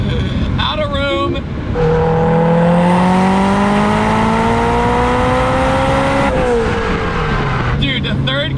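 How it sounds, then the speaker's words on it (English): A 707 hp four-cylinder Toyota MR2 accelerating hard, loud rising engine tones climbing through a gear with a shift near the end, with someone talking over the opening. "This sounds like almost no other four-cylinder."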